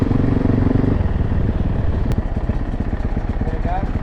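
A two-stroke Yamaha Banshee 350 ATV engine idles close by with a rapid, uneven pulsing putter, loud and continuous, as riders stop to refuel.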